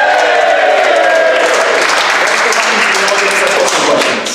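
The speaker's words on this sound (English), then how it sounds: "Give us a cheer, everybody." A live studio audience at a football show cheers and claps, a dense burst of applause and shouts that rings loudly at first and then slowly thins out.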